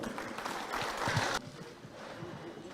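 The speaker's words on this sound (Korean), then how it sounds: "큰 박수로 맞아주시기 바랍니다" A party caucus meeting audience in the National Assembly applauds to welcome the party leader, a fairly faint, dense patter of clapping that swells briefly and then drops off into quieter room noise.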